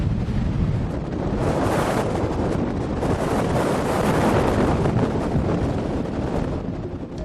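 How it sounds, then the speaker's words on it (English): A steady wind blows over a hill crest as a loud, continuous roar buffeting the microphone, with broad rumbling gusts that swell and ease without a break and no voices. "Steady winds from the Atlantic blow up over this crest over to the Pacific side of the country, producing huge energy."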